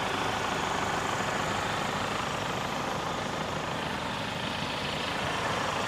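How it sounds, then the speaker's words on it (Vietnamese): Kia Carens seven-seat diesel engine idling, a steady, close, even rumble with a dense low throb and constant hiss, unbroken and without voices for the whole stretch. "riêng xe này và dòng này máy nổ cực kỳ êm"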